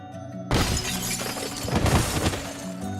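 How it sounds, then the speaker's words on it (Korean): A mirror shatters in the visual novel horror game 그녀의세계, a loud burst of breaking glass that bursts in after a quiet start and keeps crackling and scattering shards for a few seconds. "거울이 깨지는 소리가 났다."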